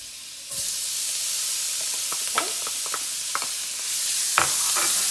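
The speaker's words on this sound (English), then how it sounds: "Let's get that a little bit melted. And then we're going to throw in the chopped onion." Chopped onion hits melted salted butter in a pan, starting a sudden steady sizzle with scattered clicks and scrapes as it is moved around, close and fairly loud, with no talking.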